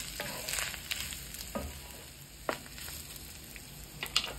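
Sausages and chorizo frying in a pot for chili, a soft steady sizzle broken by several sharp spoon scrapes and taps against the pot, close and fairly quiet.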